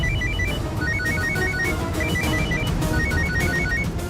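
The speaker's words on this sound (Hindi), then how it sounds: "किसी का फोन बजा ना?" A phone ringtone repeats a quick, high electronic melody over and over, loud and steady above a busy background hum.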